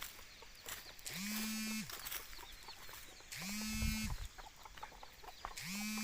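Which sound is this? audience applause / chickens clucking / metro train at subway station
chickens clucking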